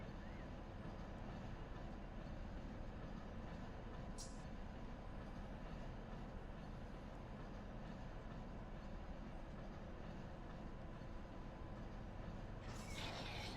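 A train rumbles steadily in a train-driving video game, a dense, continuous low roar with a brief high squeal near the start and another toward the end.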